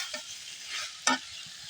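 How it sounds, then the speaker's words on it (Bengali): Curry with black eggplant being sautéed (bhuna) in a pan, with a soft continuous sizzle and a few scraping stirs, including one sharper clack of the spoon, close by with no talking. "তরকারি কষা নিচ্ছে"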